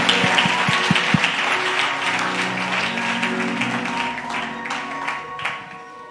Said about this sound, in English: Can you clap hands for the Holy Spirit?